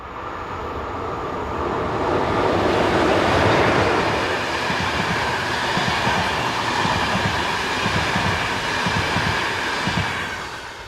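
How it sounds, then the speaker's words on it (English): Passenger train hauled by a Polish EP09 electric locomotive passing close by, a loud sustained rumble that swells and holds, with rhythmic wheel clatter over rail joints. "Passenger services to Poland are normally operated by Polish EP09s."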